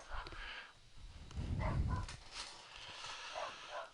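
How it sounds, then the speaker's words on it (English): A small dog barks and yaps in short, angry bursts, faint and somewhat distant, with a low rumbling growl in between. "Angry little dog."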